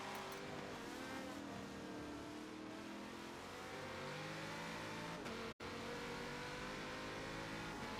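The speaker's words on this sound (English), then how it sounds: "the Ferrari utilizes superior acceleration to start opening the gap" A Ferrari race car in a racing video game on the Indianapolis GP circuit, engine droning and rising steadily under acceleration with other cars' engines layered in, loud and continuous with one brief dropout.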